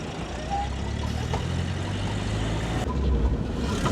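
A motorcycle engine idles with a steady low rumble, loud and close throughout, over a constant background of street noise.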